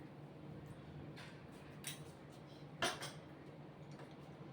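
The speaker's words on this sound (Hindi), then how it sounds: "तो 1 चम्मच मैं नीचे इसमें तकमरिया डाल" A spoonful of soaked, swollen basil seeds drops into a glass for falooda, giving a couple of faint, brief clinks and soft wet taps over low room hum.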